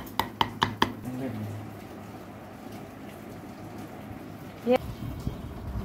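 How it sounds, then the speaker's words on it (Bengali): Palm sugar candy and leaves being pounded with a pestle for a cold and cough remedy: four sharp, evenly spaced thuds at the start, a single firmer knock near the end, low room noise between. "এই তাল মিশ্রিটা দিয়ে আর এই পাতাটা দিয়ে সুন্দর করে আমি ছেঁচে নেব।"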